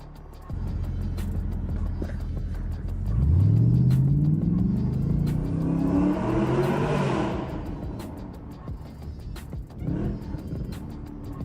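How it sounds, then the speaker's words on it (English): A car engine idles, then revs hard, its pitch sweeping upward for several seconds before falling back to a rumbling idle. A brief second blip follows near the end, and the sound is close and loud with no talking. "Just him revving his car."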